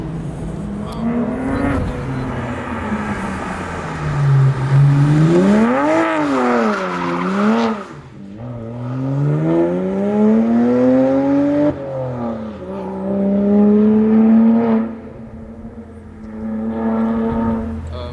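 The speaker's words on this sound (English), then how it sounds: "since this car really sounds so good, we're gonna drive with the windows open" A BMW 135i tuned past 400 hp accelerates hard on a road, engine note rising and falling through several gear shifts, loud and close from inside the cabin with windows open, brief voices underneath.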